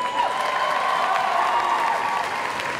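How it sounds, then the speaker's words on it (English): An audience at a collegiate arts achievement rally claps for seniors, a steady dense applause filling the whole moment at even loudness, with faint cheering mixed in. "One more round of applause for all our seniors continuing their arts into college for the next 4 years."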